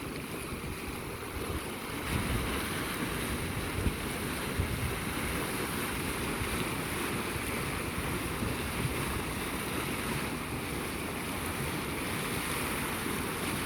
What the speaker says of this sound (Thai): ฟังเสียงน้ำนะคะ ธรรมชาติแท้ ๆ นะคะ ไม่ใช่ของปลอมนะคะของจริง น้ำร้อนผุดขึ้นมาจากใต้ดินจริง ๆนะคะ